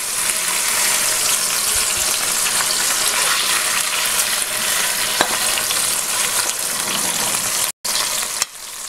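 Chicken pieces sear in a hot pan, giving a loud, steady sizzle and spatter that runs without a break. Near the end there are a brief dropout and a small clatter.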